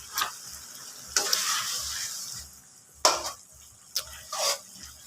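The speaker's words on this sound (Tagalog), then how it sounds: "Kunting kulo lang yan." Sardines and sweet potato leaves in a pan, with a soft sizzle and simmer broken up by several sharp stirring scrapes and clinks of a utensil against the pan. The sounds are close and there is no talk.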